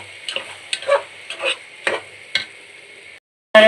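Rice fried and stirred in a pan for khichuri gives a series of rhythmic scraping, sizzling strokes, then a short hush before one loud final burst.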